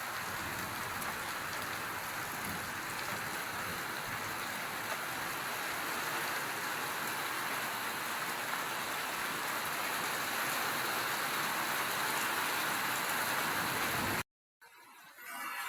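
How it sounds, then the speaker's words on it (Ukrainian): Steady, heavy rain pours down continuously, a dense hiss of drops on surfaces, cutting off abruptly near the end. "На дворі дощ"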